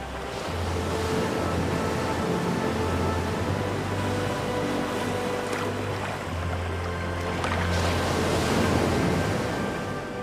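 Rough sea waves surge and break along the rugged southwest Algarve coast of Portugal, a continuous loud roar of surf with wind buffeting the microphone, swelling in places and with no voices.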